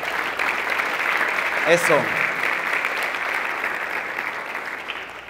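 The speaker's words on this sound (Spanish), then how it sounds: "Dale un aplauso a Dios" Church congregation applauding during a sermon, steady dense clapping throughout with a brief voice rising over it near the middle.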